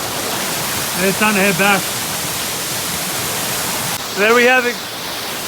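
Steady broadband rush of Tangerine Falls, a waterfall, fills the scene continuously at moderate level, with a person speaking briefly over it twice.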